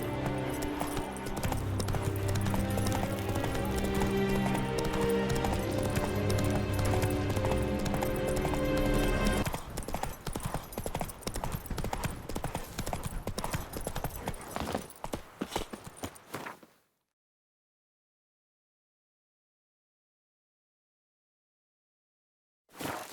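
Horse hooves gallop in The Witcher 3, a steady rhythmic clip-clop under a dense game soundtrack that thins partway through, then fades into silence before a brief return at the very end.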